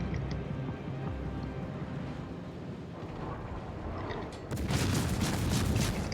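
Naval gunfire in the game World of Warships: a dense, rumbling wash of distant booms and blasts that swells louder in the final seconds, with no talk.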